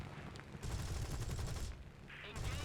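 Spitfire Mk.Vb guns fire in the War Thunder game in two quick rattling bursts separated by a short gap, heard over steady aircraft engine drone at moderate level.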